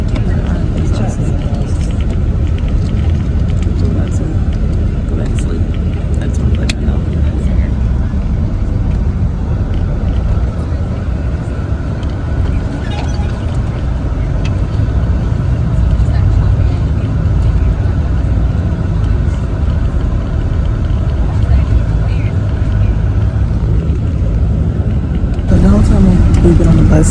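A city bus rolls along the road at night, its steady low engine rumble and road drone continuous and loud throughout, with a slight rise near the end.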